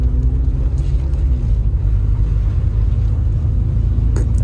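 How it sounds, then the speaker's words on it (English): Honda Civic EK coupe engine idling with a rough, uneven misfire, a loud steady low rumble close by throughout. "Yeah, misfires for sure."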